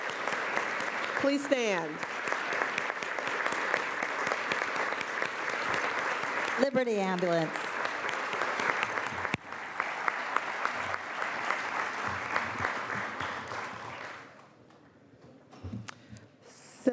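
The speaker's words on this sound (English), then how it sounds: "So colleagues, let's give them a round of applause as well." Applause fills a legislative chamber, long steady clapping from many people that fades out after about fourteen seconds, with brief speech heard over it and a quieter moment at the end.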